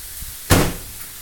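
A microwave door shuts with a single solid thunk, a short close impact that fades quickly against a quiet kitchen background.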